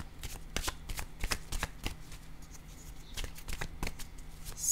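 A deck of small oracle cards being shuffled by hand, giving a steady run of crisp riffling flicks and soft slaps close up, with no talking.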